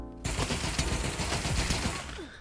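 Sustained automatic gunfire in Pavlov VR aimed at a moving target, a dense rapid burst of shots running nearly continuously and loud for about two seconds.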